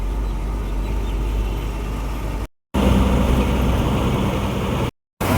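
Steady road traffic on a morning in Ahmedabad, a continuous broad rumble of engines and passing vehicles heard from close by, with two brief dropouts to silence.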